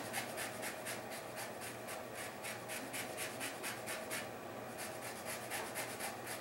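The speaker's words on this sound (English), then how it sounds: "the first thing I'm going to do is I'm going to zest it" A lemon is zested on a grater in a kitchen, making a steady run of quick, rhythmic rasping strokes. The strokes are soft and close and continue without pause, with no one talking.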